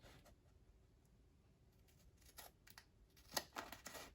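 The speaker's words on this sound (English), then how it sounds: "Now you cut it right where the flap ends. You're just going to cut straight across." Scissors snip straight across a paper envelope where the flap ends, a few crisp cuts clustered near the end, fairly faint and close with no talk.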